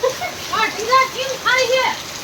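Heavy downpour hisses steadily and loudly across the whole stretch, drenching everything nearby, while someone talks over it throughout.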